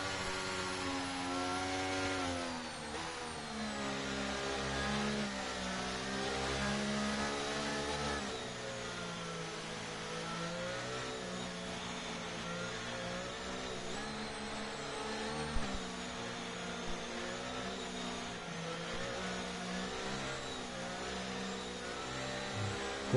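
Race cars in a sim-racing esports event at a Saudi Arabia circuit, including a McLaren, rev and accelerate out of the final corner as the grid gets back underway, a steady, loud layered engine drone with shifting pitch throughout.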